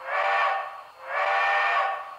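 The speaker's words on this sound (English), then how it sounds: "I love the whistle I chose." A model locomotive's TCS WOW sound decoder plays a steam whistle: two sustained, breathy blasts, the first shorter, separated by a brief dip, clear and alone.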